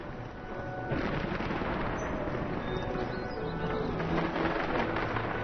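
A Chinese APEC-style fireworks display over the surface of water sends out a dense, continuous barrage of crackles and pops at a moderate distance, thickening after the first second.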